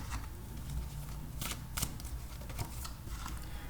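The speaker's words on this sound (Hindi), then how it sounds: "7 days ऑफ द वीक के लिए 7 कार्ड्स निकालेंगे।" Tarot cards being shuffled and drawn for a weekly reading: a soft, continuous papery rustle broken by a few sharper riffling snaps, close by and with no talking.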